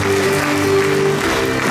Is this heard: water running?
no